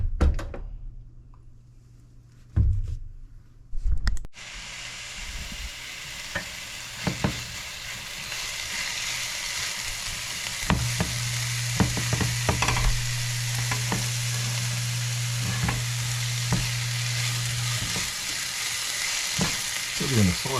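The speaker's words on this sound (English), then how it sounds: "We're going to saute these veggies until they're nice and soft" Vegetables sauteing in a pan for salmon cakes, a steady broadband sizzle and frying hiss running throughout, with a few clatters and knocks of utensils and a quieter stretch near the start.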